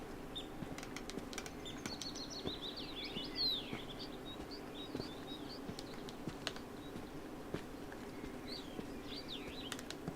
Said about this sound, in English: Just walking through here, listening to the birds is lovely.